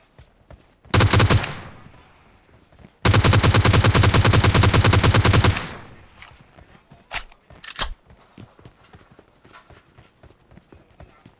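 Gunfire in the battle-royale game PUBG: a short loud automatic burst, a pause, then a longer sustained burst of rapid shots, followed by a few scattered single cracks and quieter game noise.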